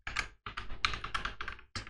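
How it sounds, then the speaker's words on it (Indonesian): Rapid keystrokes on a computer keyboard while entering a terminal command on a VPS, a close, crisp flurry of clicks in three bursts with brief pauses between them, no talking. "kalian ketik aja screen"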